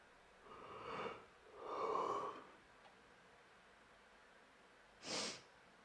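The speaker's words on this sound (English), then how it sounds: "so I've got a wee bit of sniffles there" A person between barbell warm-up sets sniffles up close: two drawn-out nasal sniffs in quick succession, then a pause and one short, sharp sniff, all in a quiet room.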